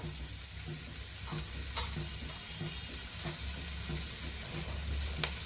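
Steamed sprouted green gram sautéing in a pan for a salad, a soft steady sizzle with a few sharp spoon clinks against the pan, quiet and close.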